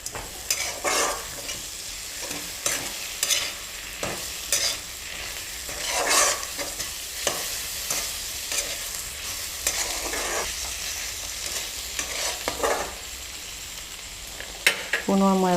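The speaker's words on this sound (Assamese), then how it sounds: "এতিয়া মই ধুনীয়াকৈ এইবোৰ লৰাই দিম" Chopped ginger and garlic frying in a pan for an Assamese-style mutton curry, with a spatula stirring in regular scraping strokes over a constant close sizzle, loud and steady with no talking.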